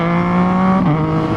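A Yamaha FZ-09 motorcycle engine runs steadily at close range, a loud, continuous droning hum with a slight dip in pitch near the end, heard alone without talk.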